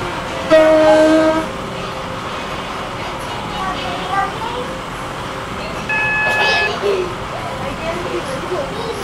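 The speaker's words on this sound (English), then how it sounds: "This train is now approaching Morganstown." Train in a video game pulling into Stepford Central station, with brief loud horn blasts near the start and later, over steady rail rumble and wheel noise.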